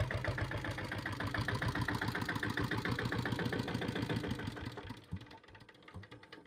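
A 2000 Taurus motorcycle engine idles after a kick start with a close, steady, rapid thumping beat that loosens and fades near the end.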